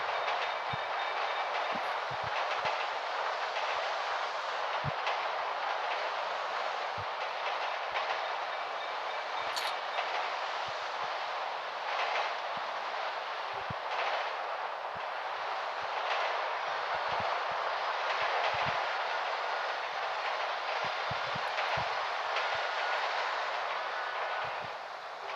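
A train passes steadily through a video game scene, a continuous loud rumble with rhythmic clickety-clack of wheels on rails lasting throughout, with no talking over it.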